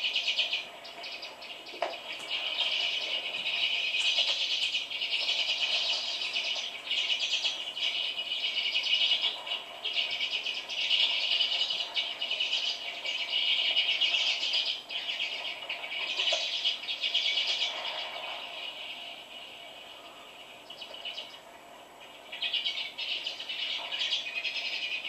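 Wild birds gathered at a backyard feeder on a spring morning, a continuous mix of chirps and calls from several birds, fairly close and lively, with a soft insect-like buzz underneath and no talking.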